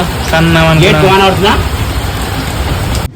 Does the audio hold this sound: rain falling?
yes